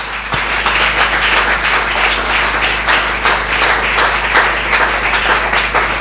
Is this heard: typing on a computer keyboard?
no